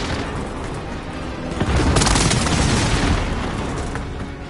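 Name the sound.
airstrike explosions in video game Call of Duty Warzone Resurgence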